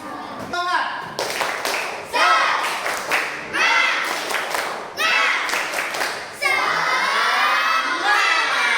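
Fifth-grade primary schoolchildren in a classroom perform a spirit clap chant: bursts of rhythmic group clapping mixed with loud shouted chanting voices, repeated in several waves and ending in a sustained cheer.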